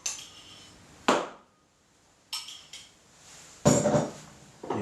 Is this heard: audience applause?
no